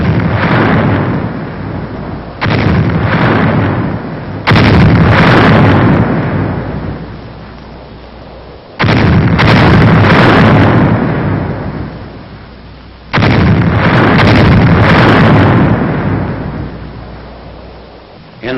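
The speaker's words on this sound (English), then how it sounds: "Final shelling of the town is directed by the 7th Field Artillery Observation Battalion." Artillery shelling of a WWII town, directed by a field artillery observation battalion: heavy booming blasts arrive in several separate bursts, each a loud rumbling roar that slowly decays, on old film-style audio.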